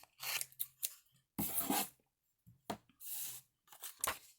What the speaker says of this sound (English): So I'm just going to cut that here, a little bit down.